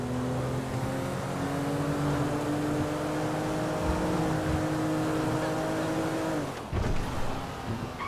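A car in GTA 5 drives with a steady droning engine hum that shifts pitch near the end, loud and continuous, as if heard from inside the vehicle.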